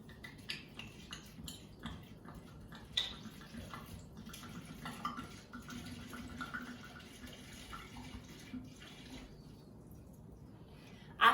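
A whole bottle of red wine poured into a drink mix, heard as a faint, steady trickle and splash with a few small drips, continuous for several seconds and with no talking.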